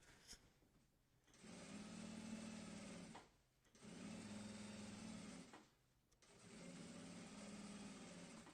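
A sewing machine stitches a throw pillow along its welting cord in three steady, fairly loud bursts, each a few seconds long, with short pauses between them. No one talks.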